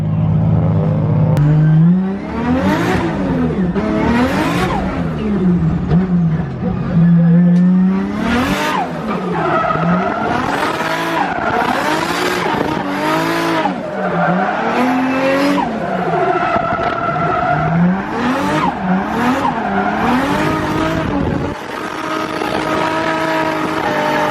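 A loud six-cylinder turbo car engine revs and roars through repeated gear changes, pitch sweeping up and down as it accelerates hard, with occasional tire noise.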